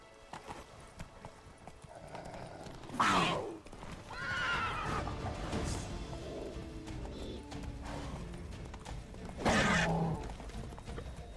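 Roach, the horse in The Witcher 3, neighs twice in loud, shrill whinnies several seconds apart, with hoof clip-clops and game ambience between them.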